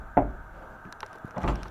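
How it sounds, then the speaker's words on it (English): A door swings open with a brief knock-like thud at the start and a second handling sound near the end, in a quiet room, with no talking. "you'll come right through this door here"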